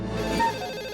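A telephone rings once in a short, bright electronic burst, close and fairly loud, with no talk over it.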